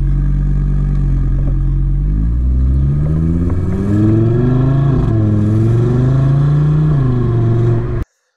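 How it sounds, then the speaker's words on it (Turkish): A 2025 Audi RS3 engine pulls hard under load, its deep exhaust note rising steadily in pitch as revs climb, loud and close throughout without talk before cutting off abruptly at the end. "Arabanın sesi inanılmaz güzel."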